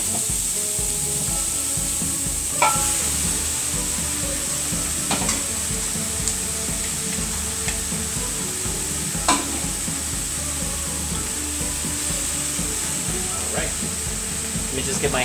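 Cubed roast turkey sizzles with garlic and onion in a pot, a loud, constant frying hiss with occasional sharp clacks and scrapes from a spoon stirring close by, and no speech.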